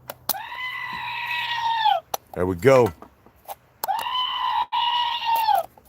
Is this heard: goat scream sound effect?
yes